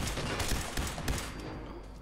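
Gunfire rattles in quick overlapping bursts during a firefight in Fallout 4, a steady barrage with sharp close shots over a noisy background.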